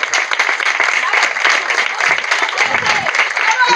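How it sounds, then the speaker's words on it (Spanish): Sustained applause from an audience at a neighbourhood street festival in Santa Coloma, dense clapping and cheering that fills the whole stretch at steady loudness. "podríamos dar un aplauso"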